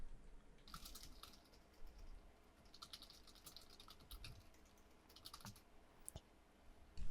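Typing on a computer keyboard while writing a Facebook page post, with bursts of quick, fairly close key clicks separated by short pauses, heard alone without talk.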